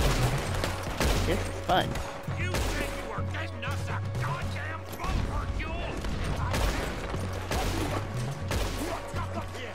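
Gunfire in Red Dead Redemption 2 fills a fight on an island: repeated rifle and pistol shots crack in irregular bursts and volleys, loud and close, with someone talking between the shots.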